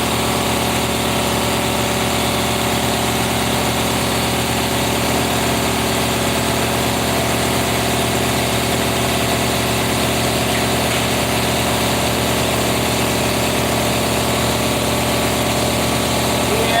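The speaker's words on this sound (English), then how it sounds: "We got air in the compressor, or do we need to run it?" A loud, steady mechanical drone runs continuously without pause, an air compressor motor humming and vibrating at close range.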